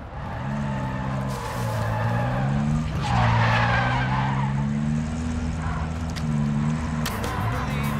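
Vehicle skidding in the Call of Duty DMZ video game, a loud, steady tire-and-engine whine with wavering tones held for several seconds, swelling briefly near the middle before settling back to a continuous drone.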